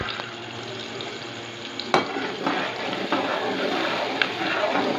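Three chopped onions fry in a pan with a spoonful of salt, a soft continuous sizzle with a sharp clatter near the start and occasional stirring scrapes, fairly close.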